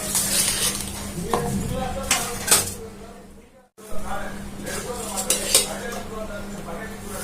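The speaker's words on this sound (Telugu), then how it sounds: "ఇలా మొత్తం అంతా కలిసేలాగా కలిపేసుకున్నాం." Ingredients being mixed by hand in a pot in a home kitchen, with repeated scraping and clinking of a spoon against metal, a short pause midway, then more stirring at close range.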